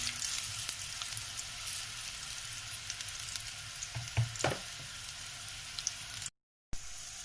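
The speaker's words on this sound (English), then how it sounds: "Fry chili garlic for 2 to 3 minutes" Chili and garlic frying in a pan for a Maharashtrian besan kadhi, a steady soft sizzle with a few stirring knocks partway through, heard alone without talk.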